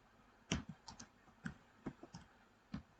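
Keys clack on a computer keyboard in short irregular bursts, a handful of crisp taps spread over a few seconds, close and fairly quiet with no talking.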